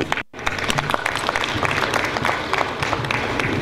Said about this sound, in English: Please, a round of applause for her once again.